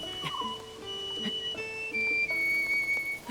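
A character whistles a short melodic tune in Zelda: Tears of the Kingdom, clear sustained tones gliding up and down between pauses, set over quiet game ambience.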